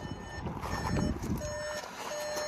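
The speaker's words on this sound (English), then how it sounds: "apologies for the beeping." Steady electronic beeping tones repeating at intervals inside a 2019 Volkswagen e-Golf electric car, over a low rumble and some handling noise.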